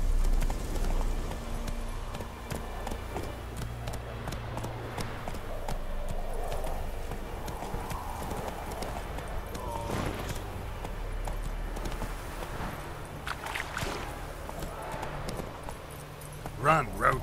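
Roach, the horse from the video game The Witcher, gallops with a steady, continuous clip-clop of hooves running throughout, mixed under other game sounds.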